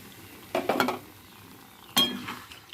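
A little water splashed into a cooking pan and stirred, two short bursts of sizzling scrape and clatter separated by a quiet pause, close and fairly loud.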